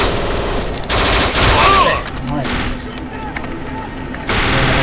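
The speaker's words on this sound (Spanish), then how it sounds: "Están disparando por la ventana." Gunfire pours through a window in the action game Kane & Lynch 2: Dog Days, with loud, rapid bursts of automatic fire and volleys of shots that swell and drop, while voices speak over the shooting.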